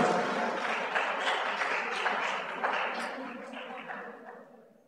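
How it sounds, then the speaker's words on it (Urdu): An audience at an Urdu poetry gathering applauds to welcome a poet onto the stage, a full burst of clapping that gradually fades away, with no talk over it. "آپ کے سامنے تشریف لاتے ہیں جناب انیس الرحمان، تالیوں سے استقبال کیجیے۔"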